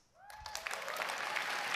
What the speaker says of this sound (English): If you guys are wondering why people are clapping